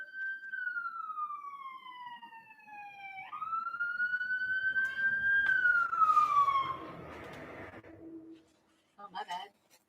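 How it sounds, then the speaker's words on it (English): A fire truck siren wails as it passes by outdoors, its long rising and falling tone sweeping loud and clear before fading, with a brief pitch drop as it goes past and a couple of short horn-like bursts at the end. "That's a fire truck."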